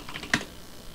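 A single sharp keystroke on a computer keyboard, close and clear over a faint steady hum.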